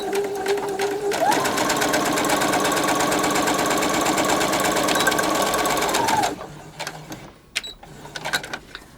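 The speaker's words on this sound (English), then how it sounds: "I'm going to straight stitch down to my square." A sewing machine runs a fast straight stitch in one continuous, even, close burst of rapid needle clatter, then stops, leaving a few light handling clicks and rustles.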